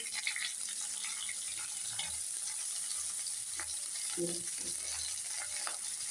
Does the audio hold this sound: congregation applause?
no